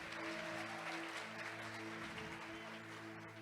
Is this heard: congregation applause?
yes